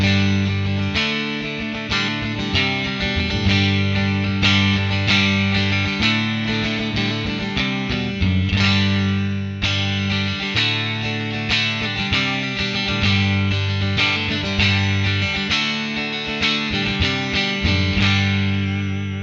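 Electric guitar on the neck pickup through the amp model of an Enya Inspire Pro SD guitar, a lightly driven melodic line with steady picked notes and sustained chords, played alone and up close.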